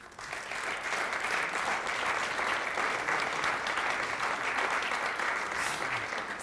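An audience at a National Gallery talk applauds to welcome a speaker named Katrina, a steady, moderately soft wash of clapping from a room full of people that holds evenly for several seconds.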